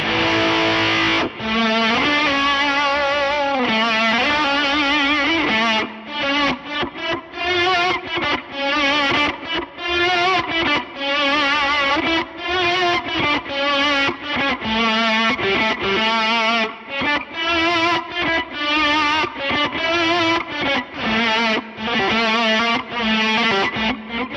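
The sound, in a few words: big distorted fuzz swells from Source Audio Ultrawave pedal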